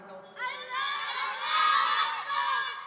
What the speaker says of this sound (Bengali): একবার তাকবীর দাও তো জোরে জোরে, লিল্লাহি তাকবীর বলে দাও